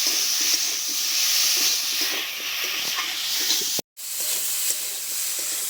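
Partly boiled potatoes are stir-fried in a pan with a continuous bright sizzle and hiss that cuts out for an instant near the end, then resumes just as strongly.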